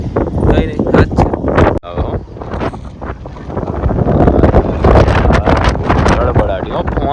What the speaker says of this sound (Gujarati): ફોન હાથમાં નો રહી, એવો પવન છે.